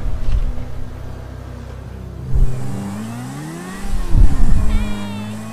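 A motorcycle engine revs up in a few short rising bursts, sputtering between them, with a brief high whine near the end.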